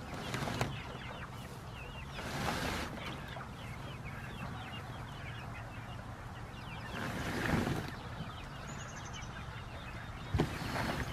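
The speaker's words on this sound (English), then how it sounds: "There's been a few chickens every night lately that don't want to sleep inside" Chickens on a farm clucking at night outdoors, several birds heard at moderate distance in repeated bursts over a steady background hiss of wind.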